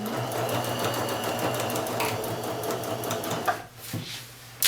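A sewing machine stitches a curved seam such as an armhole or princess seam, running in a fast, even, close whir that slows and stops near the end, with a faint click as it halts.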